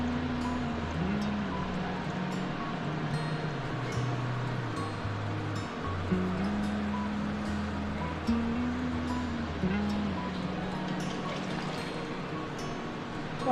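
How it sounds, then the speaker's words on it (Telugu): Bottled water is poured into a cooking pot for macaroni, producing a steady, soft splashing flow with a gurgling tone that rises and falls over several seconds, fairly faint and without voices. "బాటిల్ వాటర్ని వేసుకోవాలి"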